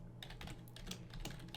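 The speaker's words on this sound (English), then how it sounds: "I think I just smashed the keyboard there" Fast, heavy typing on a computer keyboard during Unity 2D game development work, a steady run of close, loud keystrokes with no voices.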